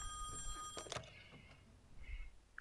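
A telephone rings in the horror game Song of Horror, a faint bell-like trill with a thump, then a brief quieter tone, all low in level.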